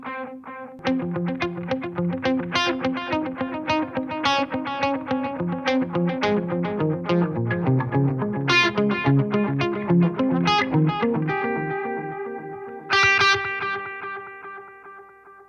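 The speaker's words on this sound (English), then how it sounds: "I've dialed the mix quite high up with the repeats quite long so that you can really hear the tones that you can create" Ambient electric guitar run through reverb and long delay with the effect mix set high: picked notes and chords ring continuously, with long trailing repeats stacking into a washy sustain and a brighter chord struck near the end.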